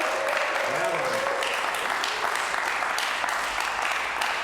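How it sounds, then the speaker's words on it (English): A crowd at an outdoor community festival claps steadily and loudly for several seconds, with a few cheers mixed in. "can you give yourselves a round of applause, please?"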